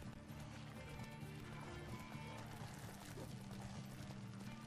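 A horse gallops in The Witcher 3: Wild Hunt, with rapid rhythmic hoofbeats steady under game music and ambience, quiet and continuous throughout.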